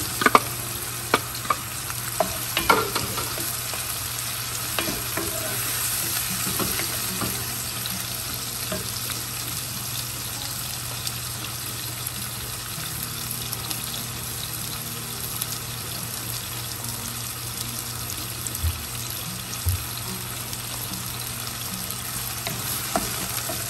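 Tomatoes sizzle and fry in a pan for butter chicken, a steady bubbling hiss with occasional scrapes and knocks of stirring, moderately close and continuous with no talk.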